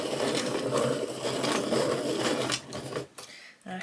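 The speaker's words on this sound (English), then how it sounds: "I hope that the sharpening noise is actually soothing." A colouring pencil turns in a pencil sharpener, giving a steady close grinding whir that stops abruptly near the end, followed by a couple of brief clicks.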